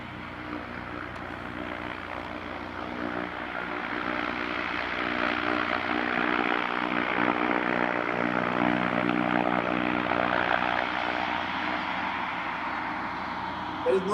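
Airship engines and propellers running steadily on open ground beside a highway, engine tilted upward for vertical takeoff; a constant droning hum with layered harmonic tones that swells slightly and holds loud throughout.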